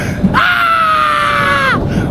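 On a water slide in Vietnam, a single loud, sustained scream rises abruptly, holds a steady pitch for about a second and a half, then cuts off, close and clear.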